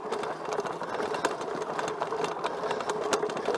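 An electric bike motor whines steadily under throttle while climbing a steep, rutted hill, a moderate mechanical hum with a rattly texture and light clicks, no talk.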